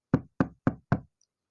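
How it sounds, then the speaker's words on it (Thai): Four sharp knocks on a door land in an even, steady rhythm, close and distinct, then silence follows. "แต่เสียงเคาะประตูก็ดังขึ้นอีก"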